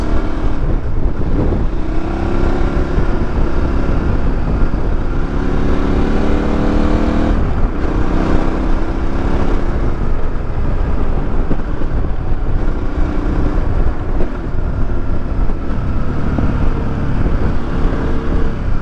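A KTM 1190 Adventure motorcycle engine on a road test ride, a loud continuous drone with rising and falling revs through gear changes, wind noise mixed in.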